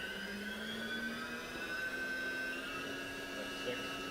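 The spindle of a 2005 Haas Super Mini Mill spinning up to speed, a steady close whine with pitched tones that slowly climb over a constant mechanical hum, loud and unbroken.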